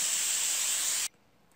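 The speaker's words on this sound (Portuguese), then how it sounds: "Então agora eu vou desligar o fogo, vou deixar ela sair a pressão sozinha." A pressure cooker with the heat off releases a loud, steady hiss of steam under pressure, cutting off abruptly after about a second, leaving near silence.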